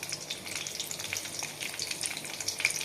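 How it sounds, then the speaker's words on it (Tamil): Green chillies fry in hot oil in a pan, giving a close, continuous crackling sizzle with bright spitting pops throughout. "பச்சை மிளகாய் போடலாங்க"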